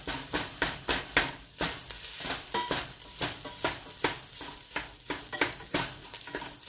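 Lasagna sauce cooks in a pan, a spoon stirring it in quick rhythmic scrapes and clanks over a soft steady sizzle, close and moderately quiet, with no talking.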